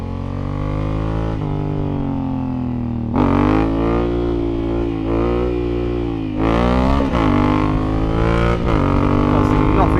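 A Honda Africa Twin motorcycle engine revs up close, its droning pitch climbing steadily, then jumping up and climbing again twice as it pulls through the gears under acceleration.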